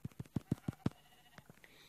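A short burst of about six quick, evenly spaced sheep bleats from the Minecraft video game, fairly close and clear, followed by a couple of fainter ones as the sequence tails off.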